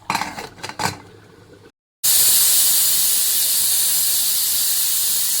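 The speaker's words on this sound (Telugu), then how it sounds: "మనం కుక్కర్లో ఒక విజిల్ 2 విజిల్స్ వచ్చే వరకు పెట్టుకుంటే కొంచెం మెత్తగా ఉంటుంది" A pressure cooker holding country chicken curry lets out a loud, sustained steam hiss after a short burst of metallic clatter and a moment of silence, and the hiss continues unbroken to the end.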